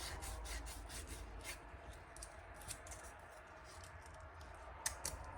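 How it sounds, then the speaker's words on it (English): Emery cloth rubbed by hand over a burr on a scored skid steer wheel shaft, giving a steady close scratchy rasp with quick repeated strokes, no talking. "There's a burr or something there, so I'll just take a little bit of emery cloth."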